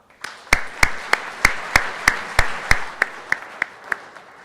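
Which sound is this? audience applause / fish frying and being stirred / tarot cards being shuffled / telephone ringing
audience applause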